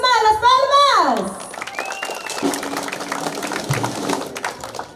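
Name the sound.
applause at a birthday celebration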